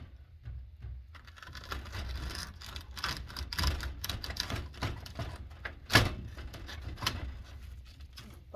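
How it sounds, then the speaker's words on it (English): A knife chops celery on a cutting board while making turkey soup, a run of irregular sharp taps against wood with one louder thunk partway through, close and fairly quiet, no voices. "So now I'm going to do the celery. Just cut off the top here."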